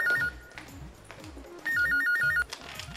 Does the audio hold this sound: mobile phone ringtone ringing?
yes